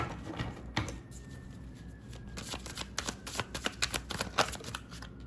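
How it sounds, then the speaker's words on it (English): A deck of oracle cards is shuffled by hand, soft riffling flutters and taps building into a quick rapid patter, close and quiet. "There's so many, they're hard to shuffle."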